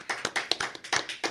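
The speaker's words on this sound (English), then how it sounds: "That's a raucous applause" Audience applause for a guest arriving on stage, a short burst of crisp, rapid claps from a small group, close and distinct, with no talking over it.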